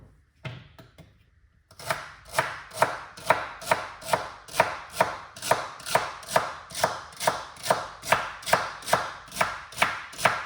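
Celery being chopped with a knife on a cutting board, a steady run of sharp, evenly spaced close thuds after a short pause, loud and clear with no talking.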